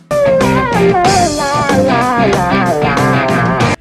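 A 1973 synthesizer rock instrumental plays loud and dense, with a sliding synth lead over driving rhythm and bass filling the whole stretch without pause.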